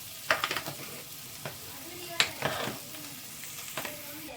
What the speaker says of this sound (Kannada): ಈಗ ಚೆನ್ನಾಗಿ ಸ್ವಲ್ಪ ಮಿಕ್ಸ್ ಮಾಡ್ಕೊಳ್ಳೋಣ